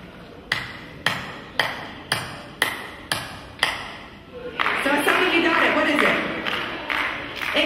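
A single pair of hands claps out the Twinkle Twinkle Little Star rhythm at a school symposium, seven crisp evenly paced claps with a pause before the last, followed by a burst of sustained applause from the audience.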